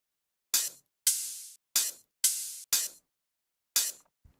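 Tinny, plasticky hi-hat samples from a music track sound alone as six crisp, hissy hits in an uneven pattern, each decaying quickly, some short and clipped and others ringing a little longer.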